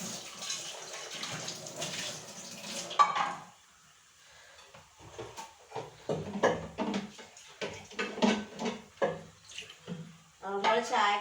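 Tap water runs in a home kitchen to fill a vessel for tea, splashing in bursts between pauses, with clinks of utensils and faint talk nearby.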